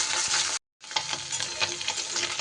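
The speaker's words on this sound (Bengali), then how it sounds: "তেল খুব ভালো করে গরম হয়ে গেলে অল্প অল্প করে আমি মাছগুলো ভেজে নেব।" Fish pieces frying in hot rice bran oil give a loud, dense, close sizzle with crackling spatters, broken once by a short silent gap before the frying resumes.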